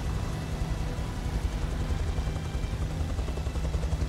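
A helicopter in the video game Beyond: Two Souls gives a steady low rotor thrum with a dense, churning engine drone that stays constant throughout, without talk.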